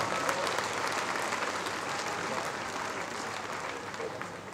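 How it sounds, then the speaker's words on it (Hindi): A crowd at a BJP political rally, held at the opening of an election office in Indore during the 2023 Madhya Pradesh campaign, claps together in a sustained, fairly distant wash of applause with no break. "तैयार है तो हाथ उठाकर ताली बजा दीजिए सारे लोग"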